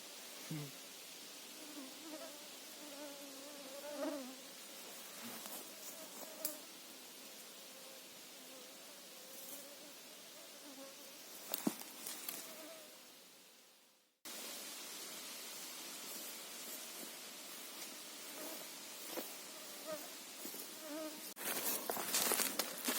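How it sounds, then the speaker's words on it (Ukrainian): Mosquitoes and other insects whine and buzz in a forest, a thin steady drone that rises and fades as they fly close, with brief rustles and a short cut in the middle; no one speaks. "А тут комарів так багато."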